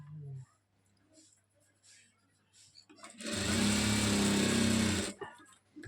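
An electric sewing machine stitches a chudidar dress top, starting after a few quiet seconds with some brief talk and running in one loud, steady whirring burst of about two seconds before stopping.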